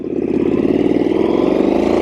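A Triumph Street Scrambler 900 motorcycle engine drones steadily while riding, a loud, close, even mid-pitched hum that holds for two seconds with no speech.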